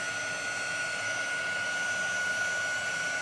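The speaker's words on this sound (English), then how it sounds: "It is a quick dry gun," A quick dry air gun, not a heat tool, blows a steady, loud, unbroken stream of air with a faint high whine throughout.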